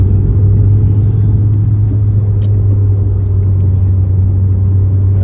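A car engine revs up as it speeds to merge onto a highway: a steady, loud, low rumble with an even drone that holds throughout, heard from inside the vehicle with no talk.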